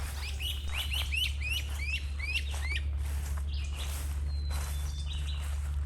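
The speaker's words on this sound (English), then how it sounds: "I'm just loving how loud all these birds are." Birds sing loudly outdoors at the Battle of Blackjack historic site, with close, rapid runs of bright repeated chirps followed by scattered whistled calls over a steady low hum.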